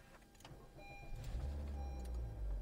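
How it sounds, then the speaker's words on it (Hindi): A 2022 Honda City 1.5L Aspire engine cranks and catches, then settles into a steady low idle rumble that builds and holds, with faint higher electronic chimes above it. "गाड़ी को स्टार्ट करके देख लेते हैं।"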